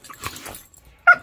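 Pet dogs indoors yipping and growling in short bursts, followed by one sharp, loud bark near the end, close by and without talking.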